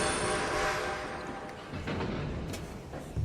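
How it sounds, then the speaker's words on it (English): Train in the Red Dead Redemption 2 video game, a loud, steady rumble of rolling cars and engine noise filling the whole clip, with a brief sharper clank near the end. "I'm gonna ride ahead and stop the train."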